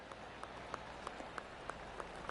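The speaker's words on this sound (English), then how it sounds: "Oh, golf clap." Polite golf clap from a PGA tournament gallery after a birdie, a thin, sparse patter of light claps spaced out over a faint, steady background hiss.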